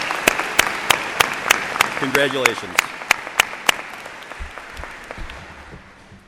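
Applause from a large crowd at a university spring commencement fills the space, with a brief spoken word over it; the clapping thins out and fades toward the end.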